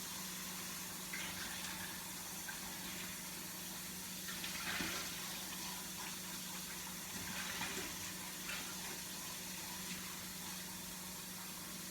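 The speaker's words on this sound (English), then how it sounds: "All right, so I'm gonna rinse this out and then dry it." Tap water runs steadily in a kitchen sink while a container is rinsed, a faint continuous stream with a few louder splashes as the flow hits the container, no talk.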